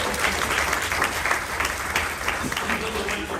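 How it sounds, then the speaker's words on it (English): Audience at a San Diego Comic-Con panel applauding, a dense, steady wash of clapping with a faint murmur of voices underneath, sustained throughout. "Another round of applause for Hannah, who's been filmed before."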